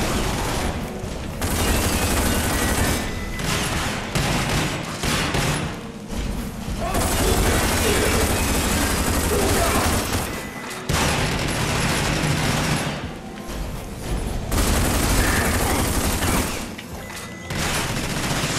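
Heavy automatic gunfire in Rage on Nightmare difficulty, loud, dense bursts of machine-gun fire with booms and thuds, nearly continuous with brief gaps, a voice talking over parts of it.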